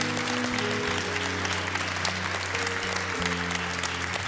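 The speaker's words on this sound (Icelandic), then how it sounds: "En ef ekki að gefa þeim gott klapp." A church congregation applauds soloists after a service performance, steady full-room clapping sustained throughout with a faint musical tone lingering underneath.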